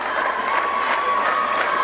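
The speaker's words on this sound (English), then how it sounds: "And the crowd comes to its feet." Crowd at a high school basketball game rising and cheering, a steady roar of voices and whistles from the stands.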